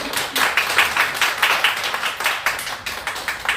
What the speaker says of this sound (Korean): 환영의 박수 한번 합시다